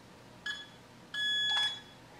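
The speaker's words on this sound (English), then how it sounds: "It takes it when you hear that long beep on the after the third fingerprint reading." A fingerprint deadbolt lock beeps after reading a fingerprint: a short electronic beep, then a longer sustained beep, clear and close in a quiet room.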